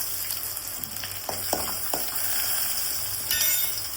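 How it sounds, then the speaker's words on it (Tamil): Mustard seeds, chana dal, dried red chilies and curry leaves frying in hot oil, a steady close sizzle with a few sharp crackles and a brief clink of a utensil against the pan. "எண்ணெய் காஞ்சிருச்சுங்க, கடுகு போட்டுக்கலாம். கடலைப்பருப்பு, வரமிளகாய்,"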